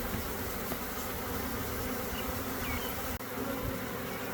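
A honey bee swarm buzzes steadily and densely throughout, a continuous close hum of many insects during a large net swarm capture, with no talk.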